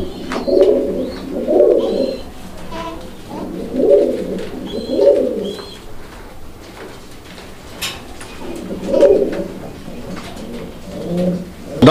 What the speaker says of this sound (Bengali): আমরা এই মুহূর্তে দেখতে পাচ্ছি এখানে চমৎকার আরো একজোড়া কবুতরের কালেকশন রয়েছে।